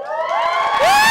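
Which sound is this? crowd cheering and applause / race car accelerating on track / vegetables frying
crowd cheering and applause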